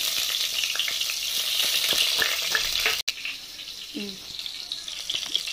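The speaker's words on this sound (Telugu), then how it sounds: "మనకి ఆయిల్ హీట్ అయింది కదా, వెల్లుల్లి వేద్దాము." Garlic frying in hot oil for a South Indian tempering, with a loud, dense, continuous sizzle and crackle close by, a brief break midway and a few small clinks.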